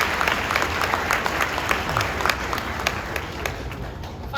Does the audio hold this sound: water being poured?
no